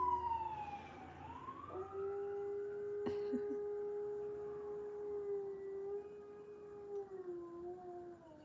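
A dog howls in long rising and falling wails while a siren sweeps by, both steady and fairly close, with a sharp click partway through.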